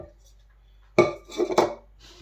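Oil, egg and mashed banana being mixed in a bowl for banana muffins: a few close clinks and scrapes of utensil against the bowl after a quiet start, in short irregular bursts.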